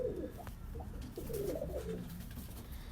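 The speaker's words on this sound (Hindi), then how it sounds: "ये उसी सलारे टेडी की मादा दिखा रहे हैं आपको" A female Salari pigeon coos nearby in a short series of soft throaty coos over a low background rumble.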